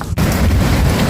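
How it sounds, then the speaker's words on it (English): Storm wind and heavy rain roar loudly and steadily close by, a dense unbroken wash of noise after a brief dip at the start. "More wind, more rain."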